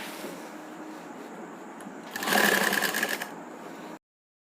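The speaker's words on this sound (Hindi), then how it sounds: "इसमें हम डबल सिलाई लगा लेंगे।" Sewing machine stitching salwar panels, a soft low hum building into a louder, rapid run of stitching for about two seconds before it stops.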